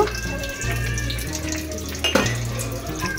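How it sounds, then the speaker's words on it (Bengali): Water runs steadily from a kitchen tap, a continuous close splashing stream with a brief clink of dishes partway through. "একটু চিকন করে কল থেকে পানি ছেড়ে রেখেছি"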